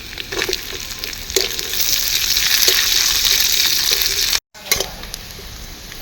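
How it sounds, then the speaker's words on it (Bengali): Chopped onion hits hot oil already frying ginger and garlic for suji upma, a loud continuous sizzle with scraping stirs, breaking off for a moment before resuming. "আদা রসুন দিয়ে হালকা করে ভেজে নিয়েছি, এবার পেঁয়াজ কুচি দিয়ে দিচ্ছি।"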